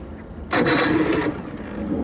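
A 1987 Johnson 40 hp outboard motor in need of motor mounts cranks and catches in a short, loud rush, then settles into a low, quieter idle.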